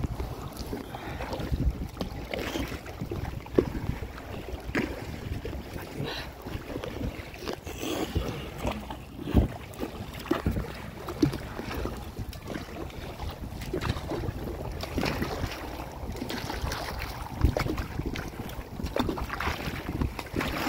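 A boat moves across open water with steady wind buffeting the microphone and water sloshing, no voices.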